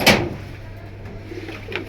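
Soft pigeon cooing, with a brief burst at the start and another faint coo near the end over a low steady hum.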